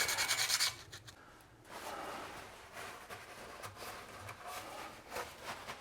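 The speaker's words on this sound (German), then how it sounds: "hier mal Sandpapier kurz. Ja, auch kurz anrauen die Fläche" Sandpaper briefly roughening a metal surface while servicing a Vespa GTS 300 scooter, a few short rubbing strokes, close and fairly quiet, with no talk.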